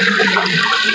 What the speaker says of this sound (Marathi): गुळाचं पाणी आपण याच्यामध्ये टाकणार आहोत